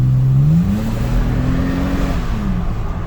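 A 2023 Toyota Tacoma's engine revs up and holds a steady, loud drone, its pitch climbing then easing back down, heard from inside the truck on a clay track.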